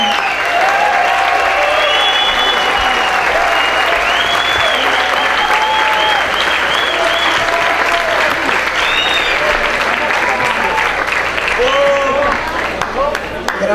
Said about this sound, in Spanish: un fuerte aplauso para don Rafael Solano